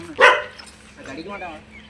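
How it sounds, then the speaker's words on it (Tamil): A dog approaches on a street in Tamil Nadu, letting out one sharp, loud bark near the start followed by fainter whimpering yips while people talk nervously nearby. "ஐயோ நாய் வருதுங்க."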